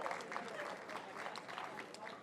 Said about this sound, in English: another round of applause for Bonnie Williams and Christine Barksdale